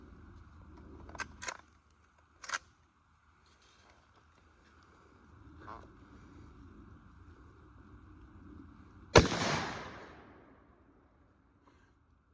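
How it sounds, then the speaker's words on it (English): A single .30-30 rifle shot is fired at a can of Vienna sausages during an outdoor penetration test. After a few faint clicks and quiet handling noises, one sharp report rings out with a short decaying tail. "First, we're going to shoot the can of Vienna sausages."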